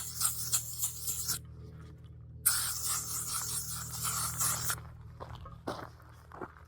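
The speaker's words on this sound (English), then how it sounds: "first thing I'm going to do is spray myself a little bit because gnats are killing me" Insect repellent sprayed onto skin at a solo campsite in two long hissing bursts, each over a second, followed by a few softer rustles and short clicks.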